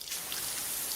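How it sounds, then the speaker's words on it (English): A natural waterfall pours in a steady, even rush of broadband water noise with no pauses, heard alone for a single second. "When this is the sound of a waterfall in nature,"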